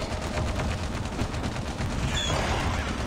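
Continuous gunfire in Call of Duty zombies mode, dense rapid shots blending into a loud, steady barrage with no pauses across the whole stretch.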